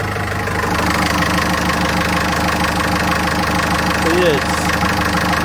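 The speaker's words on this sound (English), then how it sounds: "it's nice and quiet, it's just idling" A Yanmar boat engine idles inside an insulated engine box, giving a steady, even low rumble that runs throughout while someone talks over it.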